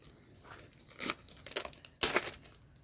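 A wrapped mechanical part for a quad being unwrapped, with three quick bursts of crinkling, tearing packaging close by.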